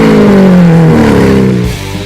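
A powerful 6.5-liter V12 car engine roars loudly and close up, its deep tone sliding downward as the revs fall and then fading slightly at the end.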